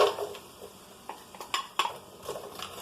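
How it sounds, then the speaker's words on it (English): Mixed peppers dropped into a pan with turkey and onions, light clatter and scraping of a utensil against the pan with scattered soft taps, fairly quiet and close. "We're going to add the mixed peppers."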